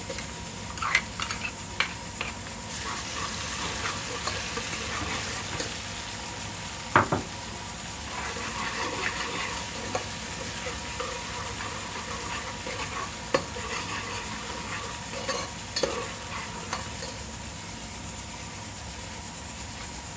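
Ginger garlic paste sizzles and crackles steadily in a hot pan with fried onions, with occasional stirring clicks and scrapes over a constant frying hiss.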